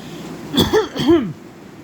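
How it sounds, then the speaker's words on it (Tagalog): Two quick, harsh coughs in a row, close up and fairly loud, with quiet before and after. "Ayan tuloy, inuubo ako."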